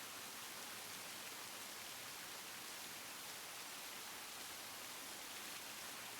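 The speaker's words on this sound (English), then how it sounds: "Now listen to the sound of the rain." Rain from the visual novel game Tsukihime Remake, a steady, even hiss of falling rain that never changes, heard alone at a low level.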